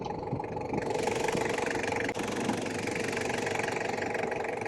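A Toyota Land Cruiser J90 with the 1KZ-TE diesel engine idles close by, a steady rattling, knocking mid-pitched drone that holds even throughout, with only a brief dip partway through.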